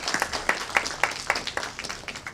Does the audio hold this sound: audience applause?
yes